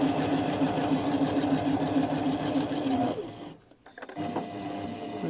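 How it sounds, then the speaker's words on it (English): Sewing machine stitching a washbag lining hums loud and close in a steady run, pauses briefly with a dip and clicks, then resumes reverse stitching to secure the seam. "Reverse stitch just to secure that."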